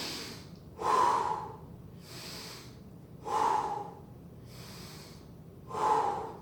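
Heavy breathing during a HIIT workout: three loud, rhythmic, close exhalations that come at a steady pace, with softer inhales between them.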